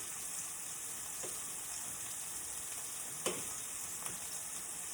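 Pork chops sizzling in a pan, a steady bright hiss with a couple of brief knocks or spatters partway through, heard alone without talk.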